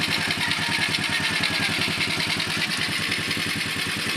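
A motorcycle fitted with a converted K-blade CDI unit on a 4-pin connector idles steadily close by, its engine chugging in an even rapid rhythm with a faint mechanical clatter over the top.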